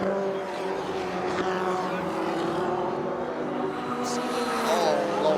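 Formula Ford 1600 race cars run down the back straight at Kirkistown, their engines holding a steady, droning tone with harmonic whine that rises near the end. A commentator talks over the engine noise.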